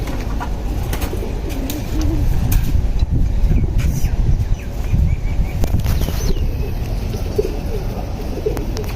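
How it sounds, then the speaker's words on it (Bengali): Racing pigeons in a home loft, with soft cooing and repeated bursts of wing flapping close by over a steady low ambient rumble, and no one speaking. "এই যে আর একটা নর কবুতর"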